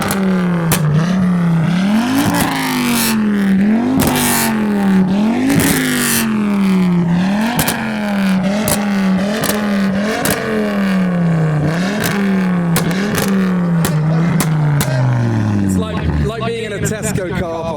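A Ford Focus ST engine revs repeatedly at a street car meet in a Tesco car park on England's largest island, rising and falling in regular bursts with crowd voices and noise audible underneath throughout.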